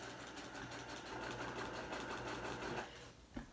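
A sewing machine tacks down raw appliqué edges on a Thanksgiving placemat, running in a steady continuous rapid stitching hum for about three seconds, then stopping with a small clunk.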